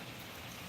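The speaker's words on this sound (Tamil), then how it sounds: "இங்கே மழை வருது" Steady rain pours down in a Tamil village, a dense, even hiss of drops on surfaces that fills the whole moment without any pause or voice.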